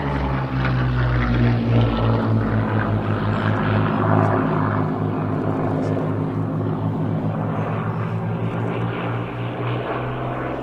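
Steady, loud roar of a World War II fighter's propeller engine at an airshow on a scorching hot day, droning continuously for about ten seconds with some faint voices beneath.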